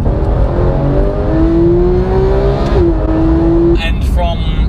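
A high-revving naturally aspirated 3.8-litre flat-six sports car engine climbs steadily in pitch toward 9,000 rpm, drops briefly as it shifts, then keeps pulling hard. It is loud and close, with no voices.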